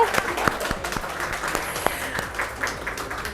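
An audience at a fashion collection premiere applauding the Bona Queensize team, a moderate, steady patter of clapping with a few sharp individual claps standing out.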